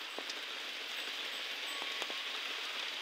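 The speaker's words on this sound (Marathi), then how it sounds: "तर जोरदार पावसाचं आगमन आज सुरू झालेलं आहे." A heavy downpour roars in a continuous broadband wash, with occasional distinct drip taps standing out close by.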